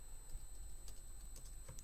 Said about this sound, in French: Désolé du bruit du clavier à l'avance.